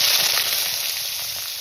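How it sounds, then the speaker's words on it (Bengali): Shrimp frying in hot salted oil in a very hot kadai gives a steady, loud, broad sizzle that carries on alone throughout and eases slightly toward the end. "চিংড়ি মাছ ভাজা ভাজা হয়ে গেছে"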